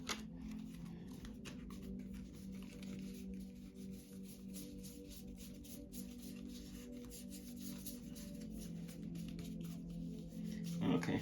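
Tarot cards being shuffled by hand during a psychic reading, a close, continuous soft riffling and rubbing with small clicks, no voice over it.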